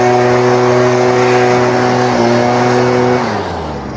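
A GarveeTech 43CC gas backpack leaf blower runs at full power with a loud, steady two-stroke engine drone that holds for about three seconds, then the pitch sags and the level falls as it eases off.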